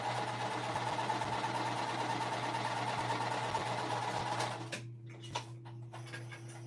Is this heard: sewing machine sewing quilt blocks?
yes